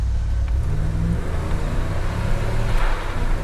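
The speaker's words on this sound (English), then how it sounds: "Right now we'll test out the acceleration. I'm going to start off in first gear." A 1993 Chevrolet 1500 454 SS pickup accelerates from first gear, its big-block engine giving a loud, continuous low roar from inside the cab, with the pitch climbing slightly as it pulls and no talk over it.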